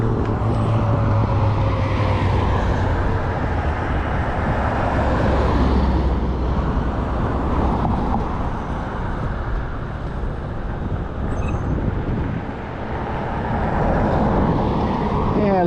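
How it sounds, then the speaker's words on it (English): Several cars pass along a road beside a rider stopped on a Blix Sol Eclipse e-bike, a continuous rushing roadway noise mixed with wind buffeting that swells and fades over the span. "Got a few cars coming down through here."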